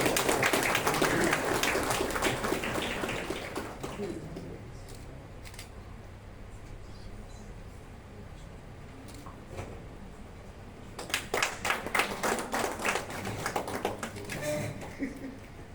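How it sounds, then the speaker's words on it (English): Applause from an event audience fades out over the first few seconds, leaving a quiet room. A later burst of scattered clapping rises near the end while people talk. "May I request everyone to kindly give a round of applause."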